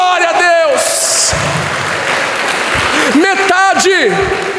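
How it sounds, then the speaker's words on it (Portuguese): A church congregation applauds during a Portuguese-language sermon, a brief broadband burst of clapping in the middle, framed and partly covered by loud, emphatic voices before and after. "Aplauda esse Deus com todo o seu coração."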